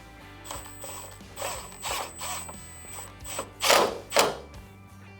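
Power driver or ratcheting tool running screws into a motorcycle fairing wire harness mount, several short whirring bursts with clicks and pauses between, fairly close and moderately loud.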